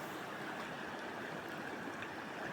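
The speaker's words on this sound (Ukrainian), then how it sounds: "Цього року річка як ніколи." The Cheremosh, a mountain river in the Carpathians running high this year, rushes in a steady, dense broadband roar of flowing water, close and continuous with no voices.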